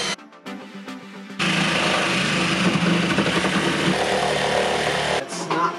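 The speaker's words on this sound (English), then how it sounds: "as much as I hate cutting holes in the exterior of this house" A power tool bites into a house's exterior wall, starting after a few short bursts and then grinding loud and steady for several seconds before cutting off abruptly.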